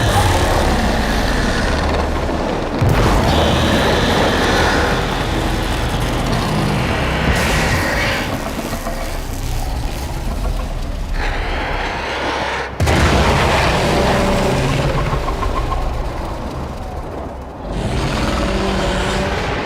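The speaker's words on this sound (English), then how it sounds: "There should be useful detritus falling from the explosion" Heavy booming explosions and rumbling blasts roll through a Warframe Heart of Deimos game scene, repeated bursts of deep impact noise with crashing debris, loud and continuous over about twenty seconds.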